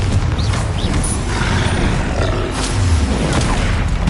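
Spell explosions booming in Hogwarts Legacy, a dense run of loud rumbling blasts and roars layered together with no pause, close and heavy throughout.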